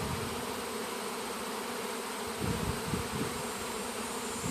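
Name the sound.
swarm of bees buzzing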